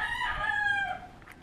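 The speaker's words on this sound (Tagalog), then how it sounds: "May mga manok pala dito sa bundok." A rooster crows once, loud and close, with a drawn-out tonal call lasting about a second, among chickens on a mountainside, with no speech.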